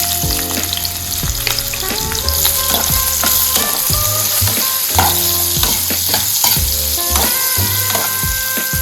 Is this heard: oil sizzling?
yes